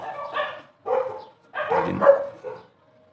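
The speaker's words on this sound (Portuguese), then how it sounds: "Olha os cachorros, ó. Vocês viram? É só um latir." Nearby dogs give a few short, separate barks over about three seconds, loud and close, with brief pauses between them.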